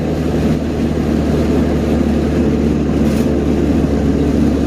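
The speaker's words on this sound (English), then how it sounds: "the car's really loud" A loud turbocharged Honda Integra engine drones steadily and close while driving, a dense continuous roar with no talk.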